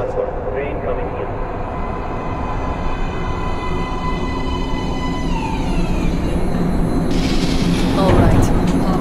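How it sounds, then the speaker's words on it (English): Metro train arriving at an underground platform in the video game Metro Last Light, a loud, continuous rumbling roar with a falling whine, swelling near the end over a steady background. "Please step away from the edge of the platform. Train coming in."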